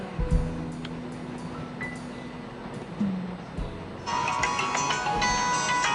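A cellphone rings partway through, a bright sustained electronic ringtone with repeating tones entering and continuing steadily alongside faint clinks and room sounds, with no voices.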